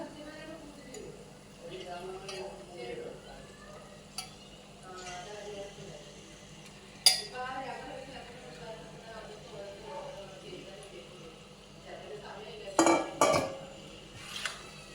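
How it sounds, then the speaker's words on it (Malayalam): Chicken is stirred into masala in a pan for a Kerala varutharacha chicken curry, with soft scraping and a few sharp metallic clinks of a spoon against the pan under ongoing speech. "ചിക്കൻ ഇട്ടിട്ട് നല്ലോണം ഒന്ന് ഇളക്കി ആ മസാലയൊക്കെ നല്ലപോലെ ചിക്കനിലോട്ടൊന്ന് പിടിക്കണം"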